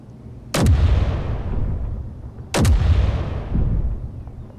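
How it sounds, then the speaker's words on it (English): Two loud artillery cannon blasts in the video game Space Engineers, about two seconds apart, each a sharp crack followed by a long rumbling boom that lingers and fades. "This is the artillery cannon. Audio warning, these are loud"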